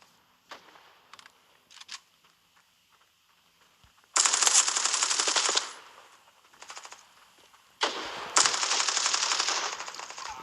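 Rapid bursts of video game automatic gunfire, two long loud volleys separated by scattered single shots and clicks, with no talk over them.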